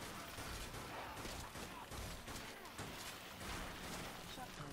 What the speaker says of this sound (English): Shotgun testing.